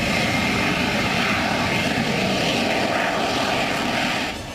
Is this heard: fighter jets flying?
yes